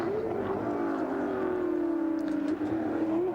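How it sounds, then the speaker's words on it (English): A Telecom MobileNet Holden Commodore race car heads onto the Bathurst circuit, its engine holding a steady mid-pitched drone that dips slightly and climbs again, heard alone with no voices. "Next car out onto the racetrack, Tomas Mezera, the second of the Telecom Mobile Net Commodores"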